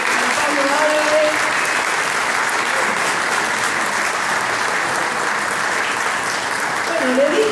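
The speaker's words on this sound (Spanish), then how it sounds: "Fuerte el aplauso a Pablo Álvarez" A lecture audience applauds speaker Pablo Álvarez in loud, dense, sustained clapping that fills the room for several seconds, with faint voices showing briefly.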